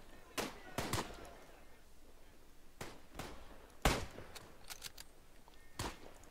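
Mosin rifle shots in the video game Tannenberg, several sharp, widely spaced cracks with decaying tails, fairly loud against a quiet background with other distant reports scattered between them.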